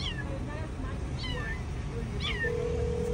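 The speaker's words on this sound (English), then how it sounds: "there's a cat stuck inside a hood of a car" A kitten trapped under a car's hood meows repeatedly, a few drawn-out cries over steady low rumbling background noise, fairly close by.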